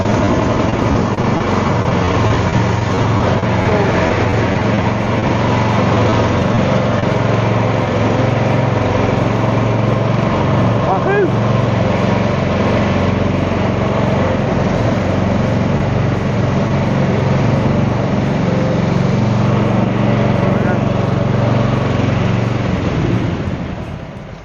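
A small engine runs steadily with the choke on, a loud continuous drone with a low throb that holds for the whole stretch and eases slightly at the end.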